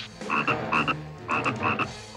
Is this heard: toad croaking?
yes